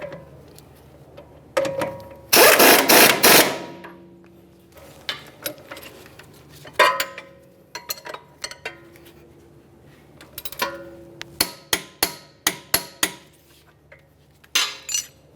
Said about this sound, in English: I'm going to tighten the nut with a 24mm